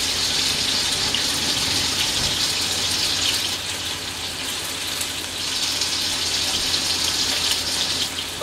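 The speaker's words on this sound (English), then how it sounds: "Then we're going to wash our hands." Hands are washed under a running kitchen tap after preparing island chicken on confetti rice, a steady close gush of water hissing into the sink with small shifts as the hands move.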